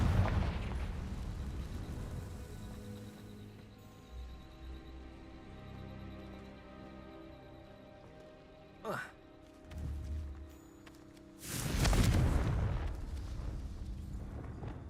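Confringo fire spells blast in Hogwarts Legacy, a few booming bursts, one sharp and two heavier, over a low game backdrop.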